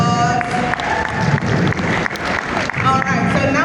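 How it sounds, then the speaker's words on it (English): Audience at a food and drink festival cooking demonstration breaks into loud, sustained applause and cheering, dense clapping throughout with a few voices calling out over it. "Please can we give a round of applause?"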